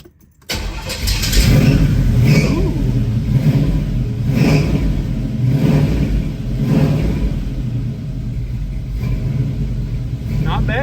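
A drag car's engine sitting very low on its stance, warmed to operating temperature, revving loud and close with two throttle pumps over a steady idle rumble.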